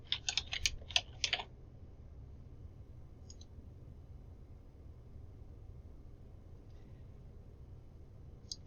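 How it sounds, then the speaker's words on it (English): A computer keyboard clicks in a quick burst of keystrokes for about a second, followed by a long low hum with only a few isolated taps. "Now I'm going to enter my username and my password."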